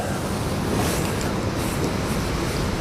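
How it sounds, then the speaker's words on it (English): Wind gusting beside a river during fishing, a steady broadband roar buffeting the microphone with no distinct pauses, loud and continuous without any voices. "That wind has picked up here in the last 20 or 30 minutes."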